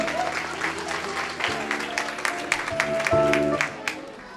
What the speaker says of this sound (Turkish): E bir alkışlayalım.